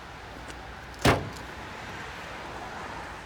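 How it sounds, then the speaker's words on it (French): A car door opens with a single sharp latch click and soft thud, heard close by against a quiet, hushed background. "Pour ouvrir la portière, ce qui fait qu'on tourne naturellement le buste"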